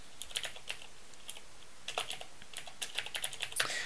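Computer keyboard typing while setting up a Python library: irregular bursts of crisp key clicks, fairly close, with short pauses between runs.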